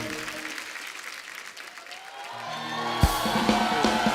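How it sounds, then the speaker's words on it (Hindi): Studio audience on an Indian comedy talk show breaks into loud, sustained applause with scattered cheers, the clapping swelling and holding steady throughout. "जोरदार ताली।"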